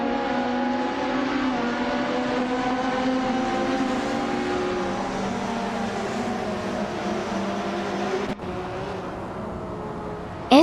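Ultralight race cars lap a track in a video game, their engines a steady, continuous droning whine with several layered tones, holding loud and even throughout before a brief shift near the end.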